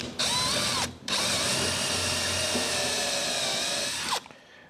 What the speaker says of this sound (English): So it's a matter of drilling a small hole.